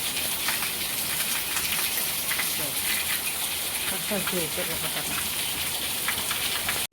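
Heavy rain drumming steadily on a surface, close and loud, with a faint voice briefly audible beneath the downpour.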